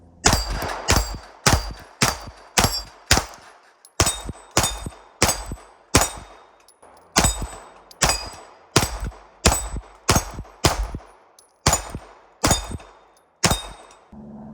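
Beretta APX A1 9mm pistol fired in steady strings at steel targets, each sharp crack followed by a ringing metallic clang, about two dozen shots in loud close bursts with brief pauses.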